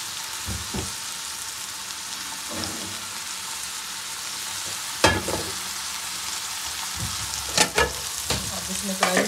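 Seekh kebabs fry on a griddle with a soft, continuous sizzle and crackle, joined by a few sharper spits and pops near the end, quiet and close with no talk.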